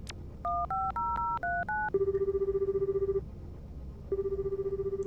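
A telephone in YNO Project plays a rapid series of dialing beeps, then a steady pulsing ring tone sounds twice with a brief gap between, clean and close.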